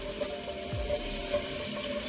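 Water running from a bathroom sink tap and splashed onto the face, a steady close wash of flowing water with no talking.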